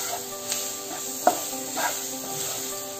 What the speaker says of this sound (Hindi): लो फ्लेम पे टमाटर और हरी मिर्ची को पका लेंगे